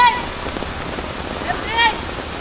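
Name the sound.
rain falling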